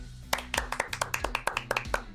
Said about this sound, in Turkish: Bir alkış alalım o zaman.